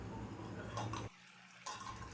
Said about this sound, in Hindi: अब करी को ढक देती हूँ।